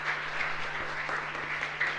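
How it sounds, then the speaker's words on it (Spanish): Congregation applauding during a Mass in a chapel for the ninth day of the novena to Mary Help of Christians, a steady crowd-wide patter of many hands over a low constant hum, moderately distant. "un fuerte aplauso para nuestra comunidad"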